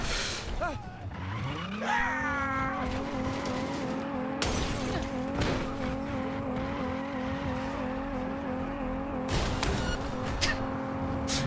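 A fast car in Cyberpunk 2077 roars with a rising engine tone that settles into a steady high whine, with tire squeals and brief crashing bursts as it speeds along.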